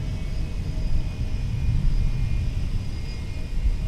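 A Delta A321neo jet taking off from an airport runway, heard as a loud, steady low engine roar and rumble with a faint whine above, continuous and without talk.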